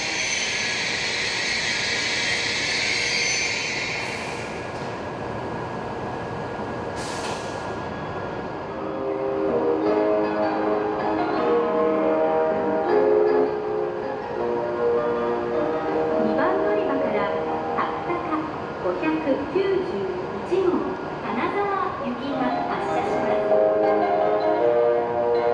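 A Hokuriku Shinkansen train pulls into Kurobe-Unazukionsen station, its steady hum and rumble carrying under platform announcements, with a brief chime near the start.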